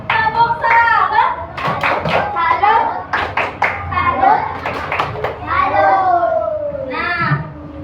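Second-grade children in an Indonesian classroom chant tepuk salut in unison with rhythmic hand clapping mixed into their loud, sing-song voices throughout.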